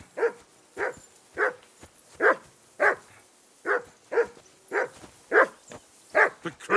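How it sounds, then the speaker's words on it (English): A dog in the medieval role-playing game Kingdom Come: Deliverance II barks repeatedly in short, fairly regular bursts, about a dozen sharp yips and barks at moderate distance over quiet background. "Call off that damn dog before he wolfs down the last of our meat."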